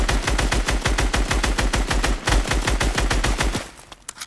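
Rapid automatic gunfire from a video game shooter, a fast steady stream of loud close shots for several seconds before cutting off into a few scattered pops.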